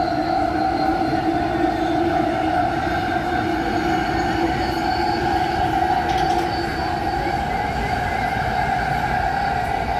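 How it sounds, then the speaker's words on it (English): Loud, steady rumble of the JFK Airport AirTrain in motion from Jamaica station, with sustained high whining tones from the wheels and motors, heard from inside the train. "This is actually my first time taking the air train."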